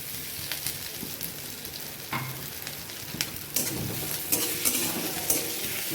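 Garlic and green chillies added to browned onions sizzling in a pan: a steady hissing fry with repeated spatula scrapes and stirs, fairly close, no talk.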